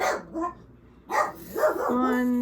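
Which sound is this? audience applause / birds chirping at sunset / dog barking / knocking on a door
dog barking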